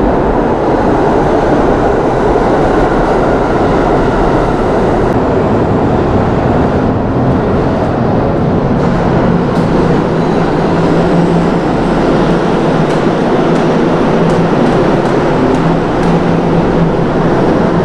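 Loud, continuous roar of a New York subway train rumbling through an underground station, steady and close for the whole stretch.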